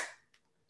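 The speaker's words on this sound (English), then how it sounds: "So this is the sound of hands clapping." A single sharp hand clap sounds once, quiet and close, then fades quickly into near silence.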